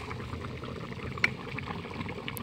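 Chicken curry with gravy bubbles in a pot in a village kitchen, a soft, steady simmering burble with small pops and one brief sharp tick.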